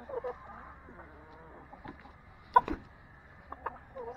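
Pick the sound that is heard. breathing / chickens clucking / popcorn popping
chickens clucking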